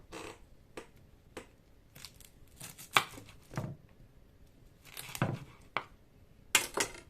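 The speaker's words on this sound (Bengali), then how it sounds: "ছুরি দিয়েই কাটি।" A knife chops a carrot close by, producing a run of separate crisp cuts with uneven spacing, each one a short sharp thunk against a board, over a quiet background.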